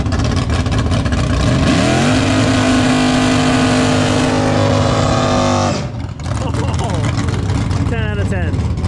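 A turbocharged VW VR6 car engine revs hard and loud at close range, rising in pitch over several seconds before cutting off abruptly, with quieter engine sound and a brief whistle afterward.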